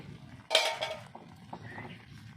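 A cooking-pot lid, covering sugar melting for a mango pickle, is lifted with one close, sharp clink and rattle, followed by a low background hiss.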